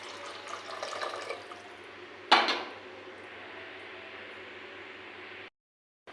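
Soaked tamarind juice poured into a hot pan, a short pour and splash followed by a soft steady hiss, close by and without speech, before the sound cuts out.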